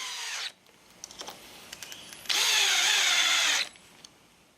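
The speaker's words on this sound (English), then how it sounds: "We're using good heavy screws to make sure our faceplate is very secure." A power drill drives heavy screws through a faceplate into a wooden woodturning blank, giving two sustained, loud whirring bursts with a quieter gap of small clicks and handling noises between them.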